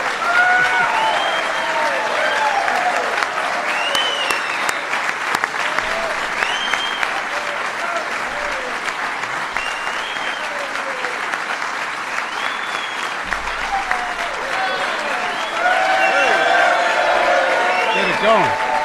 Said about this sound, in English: We're going to let him clap a little bit.